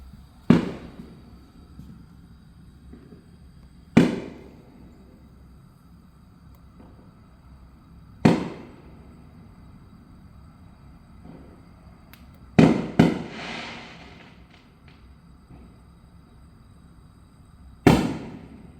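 Fireworks burst outside at spaced intervals, about six or seven sharp booms over several seconds, each with a short rumbling decay, and one pair of blasts comes close together. Near-silence fills the gaps between the blasts.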